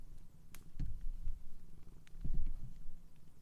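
A cat purring close by, a soft steady rumbling rhythm with a few louder swells and faint rustling.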